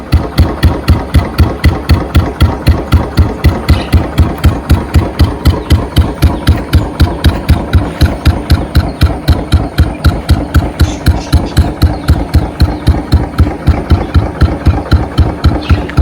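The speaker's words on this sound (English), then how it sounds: "I am playing the teaser video of my new PEASHOOTER exhaust" Royal Enfield motorcycle with a PEASHOOTER exhaust idling, a loud, close, steady thumping beat with even evenly spaced pulses throughout.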